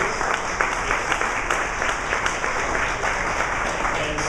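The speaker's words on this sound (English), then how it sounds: "Give them a round of applause" Steady applause from an audience at a community gathering honoring elected officials, dense continuous clapping filling the room for several seconds, loud and even throughout.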